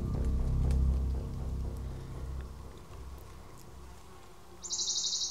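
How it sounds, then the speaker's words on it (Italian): Flies buzz steadily through a quiet outdoor spot during a paranormal investigation, a continuous low drone with a sharper high whine near the end, no talking. "Qui è tutto tranquillo, a parte un ronzio di mosche."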